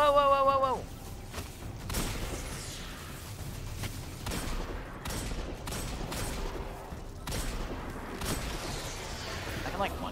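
Gunfire in the video game Destiny, a run of sharp game shots at about two-second intervals over a steady busy din of other game sounds, loud and close.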